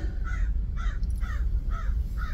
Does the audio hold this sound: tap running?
no